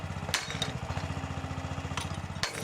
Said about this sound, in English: We've got this drilling equipment brought in, percussive drilling equipment.